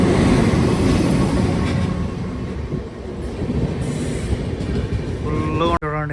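A goods or express train rumbles past at night on an Indian railway line, a loud steady roar of wheels and wagons up close, with a brief horn-like tone near the end.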